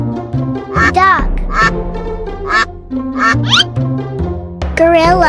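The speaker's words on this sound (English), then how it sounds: "Duck." A cartoon duck quacks several times in quick bursts over a steady, loud backing of bright children's music, with sharp nasal calls rising above the tune.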